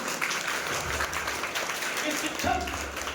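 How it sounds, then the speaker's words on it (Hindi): Applause for teachers at a school summer camp in Balrampur, Chhattisgarh, a steady wash of clapping running throughout with a voice heard over it. "अपने टीचरों के लिए एक बार जोरदार तालियां स्वागत कीजिए।"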